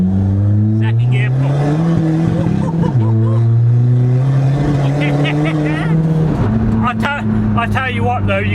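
A 300+ BHP Skoda Fabia VRS pulls hard in second gear, its engine note climbing in loud, steady sweeps with brief dips at shifts, heard from inside the car as people talk over it.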